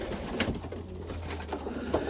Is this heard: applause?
no